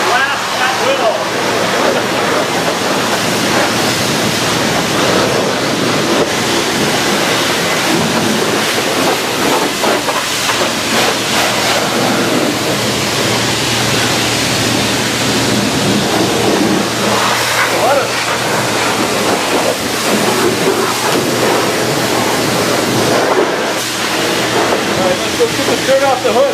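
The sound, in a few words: pressure washer blasting car wheel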